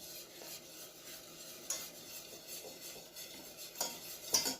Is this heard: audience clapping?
no